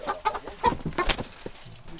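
A chicken clucks in quick, choppy bursts, close by and fairly loud, with some scuffling noise in the background.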